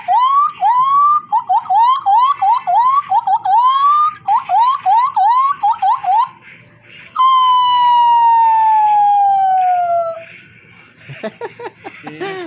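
A man imitates an ambulance siren with his voice, first as a rapid string of rising wailing whoops and then as one long falling wail, loud and close with no other sound.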